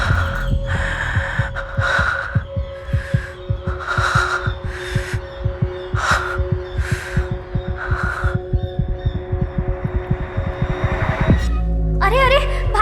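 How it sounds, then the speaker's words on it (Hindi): A fast, steady heartbeat sound effect throbs loud and close, with evenly spaced beats under a low hum and bursts of other sounds, ending abruptly. "तेरी धड़कन इतनी तेज क्यों चल रही है?"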